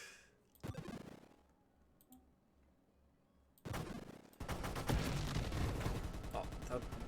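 Bursts of rapid machine-gun fire from a spaceship in the game Nova Drift, a short burst early on and then a dense, continuous stream of shots that grows louder and fills the end.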